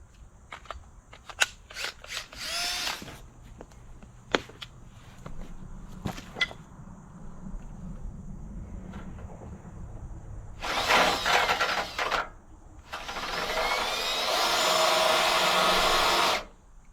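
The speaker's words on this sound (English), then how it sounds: "I'm gonna try to drill this hole in. I broke my pilot bit, so all I got is the big bit now." Power drill with a large bit boring a hole without a pilot bit, several short bursts and taps early on, then two long loud whining runs of the motor near the end.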